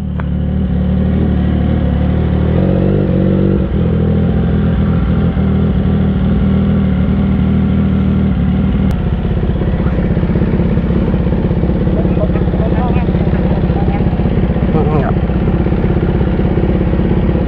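Suzuki GSX-S1000 motorcycle engine on a break-in ride, a loud continuous rumbling drone with wind buffeting that holds steady throughout, the engine note shifting slightly partway through.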